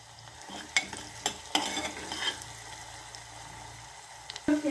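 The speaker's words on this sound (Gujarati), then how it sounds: "હવે લીલું લસણ ને ડુંગળી આપણે નાખી દઈએ અને આપણે તળવા દેશું" Green garlic and onion frying in a pan for pancharatna dal, a soft sizzle broken by a few clattering stirs and scrapes, fairly quiet and close, with no talking.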